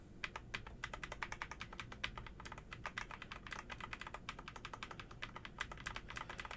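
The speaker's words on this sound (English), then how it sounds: "whenever I hit one of my arrow keys" Computer keyboard keys, including the arrow keys, are pressed in rapid, irregular bursts of close, light clicks that run continuously with no voices.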